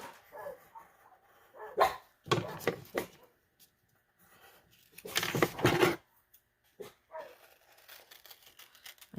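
Dogs bark indoors in several loud, close bursts, with some quick clustered barks and yips between quieter stretches and a few short whimpers.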